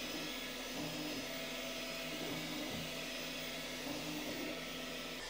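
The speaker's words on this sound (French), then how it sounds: "la ventilation fait beaucoup de bruit" A Bambu Lab X1 Carbon 3D printer's cooling fan gives a steady, continuous whir with a low hum beneath it, constant in level throughout and fairly close.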